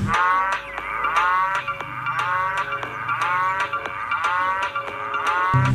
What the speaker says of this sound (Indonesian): Ternyata di sini ada binatang sapi teman-teman.